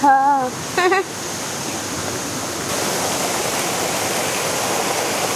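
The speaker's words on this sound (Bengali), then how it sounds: "ঝর্ণার উৎস কোথা থেকে সেটা কিন্তু খোঁজা বড় মুশকিলের ব্যাপার" A waterfall at Matheran hill station in Maharashtra pours in a steady, close roar. A short burst of speech is heard at the very beginning.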